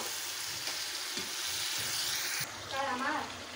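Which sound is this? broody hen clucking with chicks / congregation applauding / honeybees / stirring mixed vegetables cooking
stirring mixed vegetables cooking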